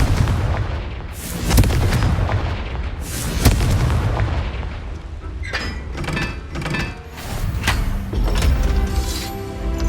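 Fire spell blasts in Hogwarts Legacy combat, a series of loud booming explosions and impacts, some sharp and some rumbling, close and prominent without any talk.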